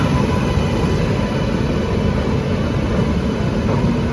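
Rajdhani Express train pulling into a station, a loud, steady, broadband rumble of rolling wheels and heavy engine noise throughout, with no voices.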